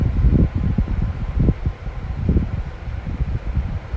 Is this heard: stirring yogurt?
no